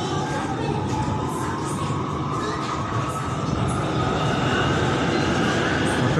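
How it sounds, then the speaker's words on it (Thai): A Bangkok BTS Green Line electric train rumbles past nearby with a steady rushing roar and a rising whine, sustained throughout without any talking. "รถไฟฟ้าที่วิ่งสวนไปเมื่อกี้"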